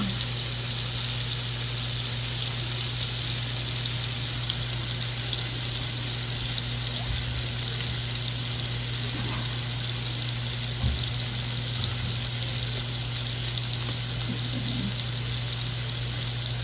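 Shrimp frying in an Instant Pot on lowered heat give a continuous soft sizzle under a constant steady hum, with a few faint clinks and bubbles here and there.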